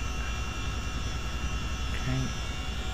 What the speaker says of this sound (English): it's just a matter of finding that area where the helicopter will sit nicely without traversing forward, backwards, left or right